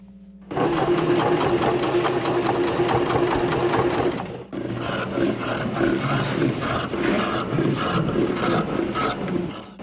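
A sewing machine hums and stitches steadily at close range in a clothing recycling class, its needle chattering in a continuous run with a brief dip in speed near the middle.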